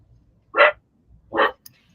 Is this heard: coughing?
no